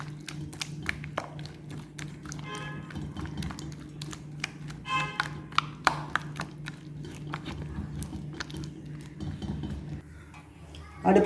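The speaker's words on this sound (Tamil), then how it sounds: "இப்போ சீட்டுக்கு ஆப்ப சோடா போட்டு நல்லா அடித்து கரைச்சிக்கணும்" Batter for egg bonda is beaten with baking soda in a bowl, giving rapid irregular clinks and taps of a utensil against the vessel over a low background hum, with no speech.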